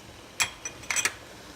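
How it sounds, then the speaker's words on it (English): A lid goes onto a cooking pot of mutton biryani: a handful of light metallic clinks and taps, close but fairly soft, in a quiet room. "I'm going to cover this now."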